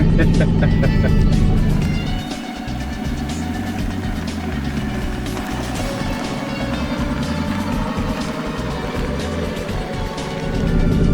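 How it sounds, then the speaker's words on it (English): Wrecked Aston Martin Vantage with no windshield, running under its own power after a crash, its engine giving a steady mid-pitched drone that stays loud and close throughout, with a brief surge at the start. "this is the first time this car has driven under its own power since it crashed into the front of Hollywood"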